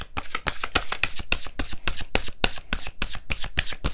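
An Atlantis oracle card deck being shuffled by hand, a steady run of quick papery riffles and slaps repeating every fraction of a second, close and fairly loud with no talk over it.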